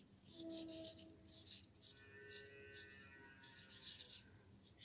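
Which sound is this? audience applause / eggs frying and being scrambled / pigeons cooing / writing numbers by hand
writing numbers by hand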